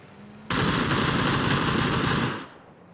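Sustained automatic gunfire spray in PUBG, a loud continuous burst of rapid shots lasting about two seconds after a quieter lead-in, then cutting off and fading.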